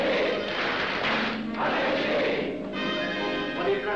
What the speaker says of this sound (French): À moi, mes frères, par le signe, la triple batterie et l'acclamation.